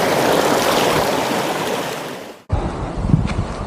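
Mountain stream water running in a Xinjiang village, a steady broadband rush close to the microphone with some wind, briefly cut off and then resuming with light splashing.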